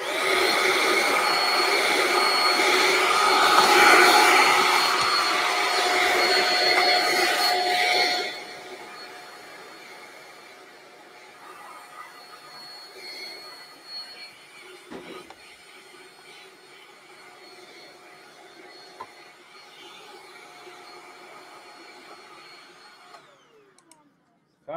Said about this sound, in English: suck it up with the vacuum again